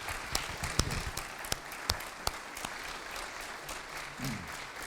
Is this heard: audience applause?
yes